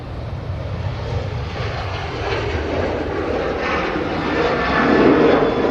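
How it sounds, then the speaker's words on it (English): An Iberia airliner from Madrid arrives at Manchester Airport with a broad, steady jet engine roar that slowly grows louder as it approaches, heard outdoors from a distance with no voices. "We've got an Iberia on the way in from Madrid."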